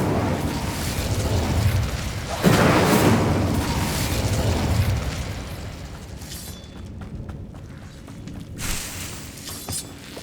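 The Incendio fire spell in Hogwarts Legacy erupts with a roaring, whooshing burst of flame that swells sharply, then trails into a crackling rumble and fades with scattered small pops.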